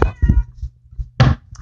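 A cat meows loudly and close by, giving three short calls with brief pauses between them and no talking.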